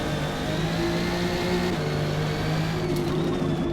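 A Camaro race car engine in a racing video game, pulling hard under throttle with rising, steady harmonic engine tones through gear changes, loud and close, with no talk over it.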